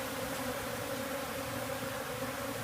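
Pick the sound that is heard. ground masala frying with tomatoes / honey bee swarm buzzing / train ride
honey bee swarm buzzing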